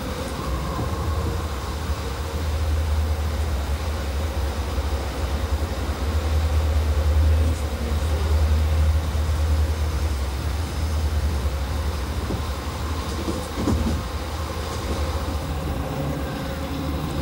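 A Rhaetian Railway train runs on the Arosa line, giving a continuous low rumble and rattle of wheels on track that stays steady and close with no voices.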